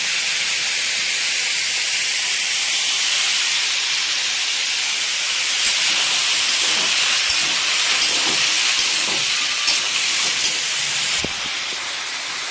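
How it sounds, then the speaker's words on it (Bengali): Soybean chunks, potato and onion shallow-frying in a pan with little oil, giving a steady close sizzling hiss throughout with faint scraping near the end. "তবে ভাজা হচ্ছে"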